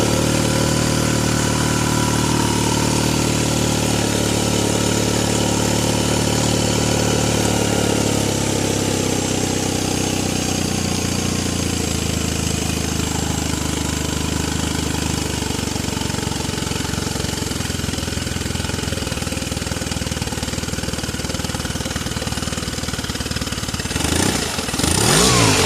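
A 2015 Yamaha 20HP outboard motor idles steadily and loudly for the whole stretch, running hot and rough with leaking gas, its low engine drone continuous and close with no talk over it.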